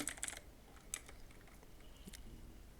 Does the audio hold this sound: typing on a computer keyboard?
yes